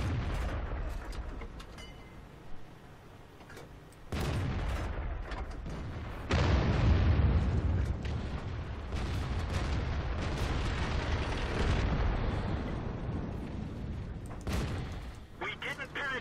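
Tank cannon fire and explosions in World of Tanks, with a Centurion Mk I fighting on the Karelia map, give heavy booming blasts and rumbling that come in sudden loud surges, and a voice talks over the battle.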